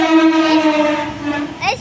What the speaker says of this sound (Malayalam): ട്രെയിൻ പോവാണ്.